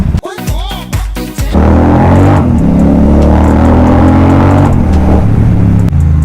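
A motorbike rides along a road, opening with a few handling knocks before its loud, steady engine drone takes over close by and holds without letup.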